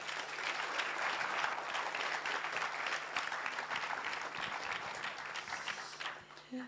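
An audience applauds at a live podcast awards event, with steady, even clapping that thins out near the end.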